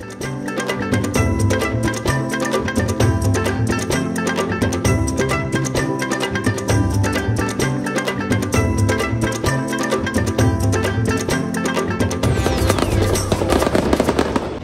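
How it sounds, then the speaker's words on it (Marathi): Diwali firecrackers burst close by in a dense, loud string of rapid cracks and pops that runs without a break for the whole stretch. "थोडेसे फटाकडे फोडूयात."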